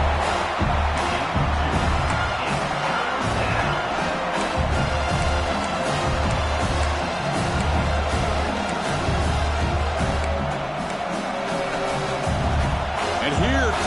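Football stadium crowd roaring during a red zone defensive stand, a dense, steady wall of noise with a commentator talking over it.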